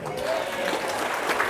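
An audience at a political party launch rally in Newcastle applauds, steady dense clapping filling the short span at moderate loudness, with no pause or fade.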